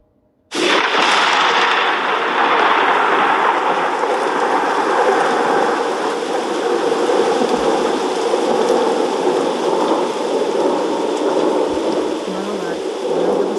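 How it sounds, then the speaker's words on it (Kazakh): A thunderstorm brings a heavy, continuous downpour that starts abruptly and holds a loud, even roar throughout, with a low rumbling underneath and no voices. "бұл найзағайдың дыбысы"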